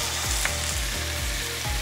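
Chicken dry-frying in a pan in its own skin fat, a steady close sizzle that runs through the whole clip, with low rhythmic thumps of stirring under it and no talk.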